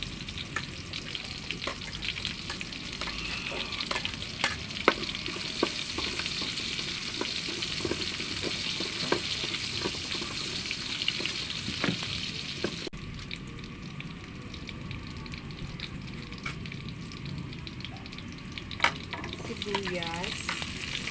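Garlic sautéing in a pan for braised pork humba gives a dense, continuous sizzle and crackle, punctuated by sharp spatula scrapes and taps throughout, close and fairly loud with no talking.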